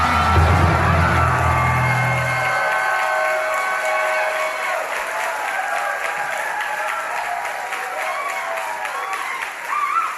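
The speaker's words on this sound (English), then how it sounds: "Give a big hand of applause to our sound rod" A live comedy podcast audience applauds and cheers for a crew member introduced on stage, loud clapping with whoops and shouts that stay lively and fairly even from start to finish.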